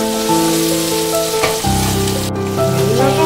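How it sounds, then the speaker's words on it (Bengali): Broccoli frying in a pan until browned, giving a loud, continuous close sizzle with soft stirring, while tonal background music plays underneath and no one speaks. "ব্রোকলিটা প্রায় ভাজা হয়ে এসছে"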